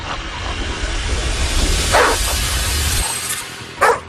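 Vicious dogs next door let out two sharp barks, a few seconds apart, over a heavy low rumble of wind and background noise.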